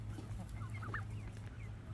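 Naked neck chickens cluck softly in a yard over a low steady hum, with a few brief calls rising near the middle.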